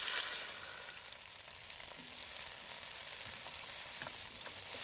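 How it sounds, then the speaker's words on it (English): Tomatoes fry in hot oil in a pan with a continuous, crackling sizzle and scattered spitting pops, close and fairly quiet, with no talking. "Add the tomatoes to the pan. Now, they will splutter a bit,"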